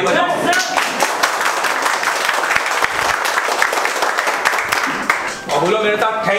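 An audience at an indoor gathering breaks into loud, sustained applause that fills the whole stretch, dense clapping with a brief dip near the end before surging again.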